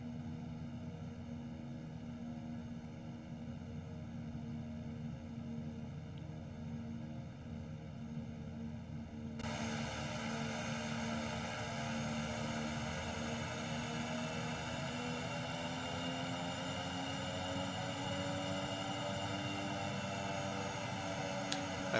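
A propeller bush plane taxiing on a narrow runway in the X-Plane 11 flight simulator, with a steady droning engine and prop hum that grows louder and fuller partway through as power rises, continuous with no talk.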